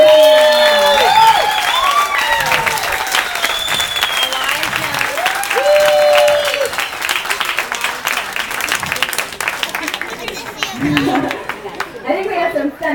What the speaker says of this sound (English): So they're really giving another big round of applause and welcome him home.